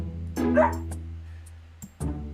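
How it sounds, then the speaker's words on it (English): A small dog, a female puppy, gives a couple of sharp yipping barks at people walking past, a close bark followed by a pause and a second short burst. "When people walk by, she jumps up and barks at them"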